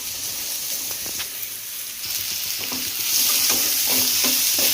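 Chopped onion being sautéed in a roasted ground masala paste in a pan, a loud continuous sizzle with scraping stirs of a spoon that grows busier toward the end.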